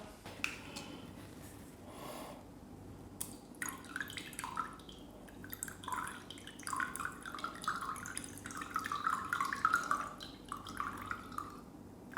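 Water drips slowly onto a sugar cube set on a spoon over a glass of absinthe, each small splashy drop landing close by at uneven intervals against a quiet background.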